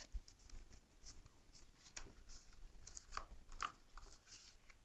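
An aluminium SAM splint folded to length gives faint, scattered crinkling and creaking with a few sharper metallic ticks, quiet and irregular, without speech.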